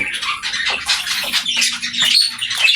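A pet cockatiel squawks loudly and repeatedly at close range, in harsh shrill bursts with no pauses.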